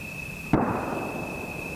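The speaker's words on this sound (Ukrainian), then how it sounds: "І оттуда чутно вибухи." A single sharp explosion from fighting near a burning ravine in Ukraine bursts out and its rumble trails off, heard against a steady background hum with a constant high tone.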